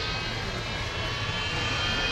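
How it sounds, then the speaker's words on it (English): Four Rolls-Royce Bristol Olympus jet engines of the Avro Vulcan XH558 bomber at an air display, giving a steady, loud, broadband roar that holds evenly throughout, with no voices. "we shall hear the famous Vulcan howl from the 4 Rolls-Royce Bristol Olympus engines"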